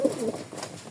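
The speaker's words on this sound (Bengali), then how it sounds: "এটা হচ্ছে বিআরপিও ক্লাবের কবুতর" A racing pigeon coos once, close and soft, a short low throaty call in a quiet setting.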